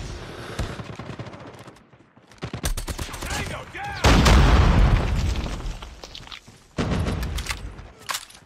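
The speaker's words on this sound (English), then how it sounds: "That's a grenade that's gonna kill me." A grenade blast in a ranked online shooter match erupts loudly amid rapid machine-gun bursts and scattered gunfire, the explosion rumbling heavily before more volleys of shots follow.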